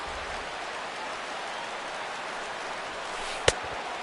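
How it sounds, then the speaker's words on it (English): Rain falls steadily in a White Sox baseball video game at game time, a dense, even hiss that holds throughout with one sharp click near the end and no voices. "The rain, as we've mentioned, coming down fairly steadily here at game time."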